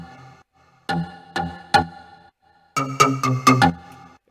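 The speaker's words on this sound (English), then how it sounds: "It's kind of a deep house bass." Slightly distorted deep house bass with a bit of reverb from an electronic music production, playing three spaced rhythmic hits, a pause, then a faster cluster of punchy notes.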